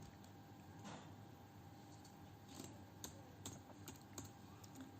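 Quiet, irregular key clicks on a computer keyboard as a name is typed into a Python program, soft and close with faint room hiss underneath.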